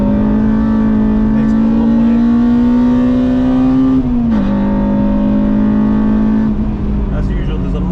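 Mazda MX-5 race car lapping Brands Hatch circuit, a loud steady engine drone held close throughout, pitch rising gradually then dipping briefly near the middle before settling, with a voice talking over it.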